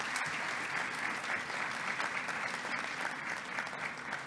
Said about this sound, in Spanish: a quien recibimos con un fuerte aplauso, por favor